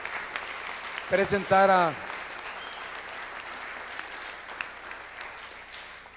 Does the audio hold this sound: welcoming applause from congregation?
yes